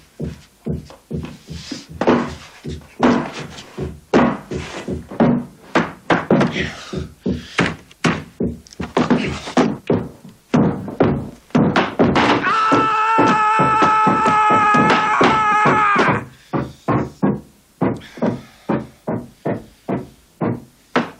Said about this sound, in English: I could go on banging all day